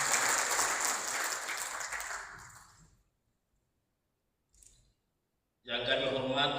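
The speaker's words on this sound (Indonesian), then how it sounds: "Kita tepuk tangan untuk beliau." Audience applause at a government event on a provincial program in Central Papua fills the first three seconds and fades out, followed by near silence, a brief faint sound, then a burst of noise at the end.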